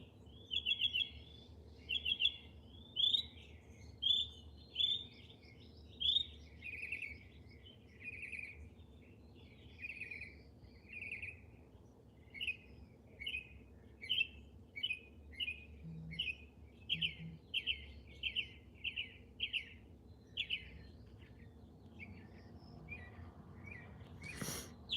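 A small songbird sings a long, varied song of quick chirps and trills in repeated short phrases, clear and fairly close against a quiet background, no voices.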